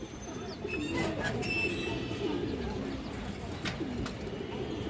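Pigeons coo in low, rolling repeated calls among other chirping birds at a high-flyer pigeon farm, with steady background noise throughout.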